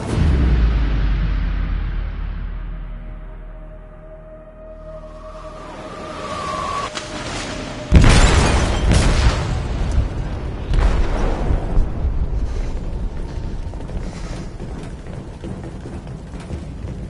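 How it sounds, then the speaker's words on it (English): A heavy explosion booms inside a ship's hold in a PS4 video game, a loud deep blast that rumbles on with crashing, grinding debris and mechanical clatter for several seconds, with no talk. "They detonated an explosive in the hold."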